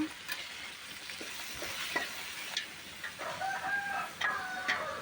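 Chicken curry frying in a pan with softened onions, ginger-garlic paste and coriander, giving a steady sizzle with scattered stirring scrapes, while a rooster crows faintly in the background near the end.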